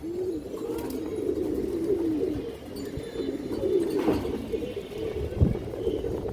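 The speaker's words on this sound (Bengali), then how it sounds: "পাল্লা করা কবুতর এগুলা" Indian highflyer breeding pigeons coo in low, throaty repeated calls throughout, close by and fairly steady, with faint rustling around them.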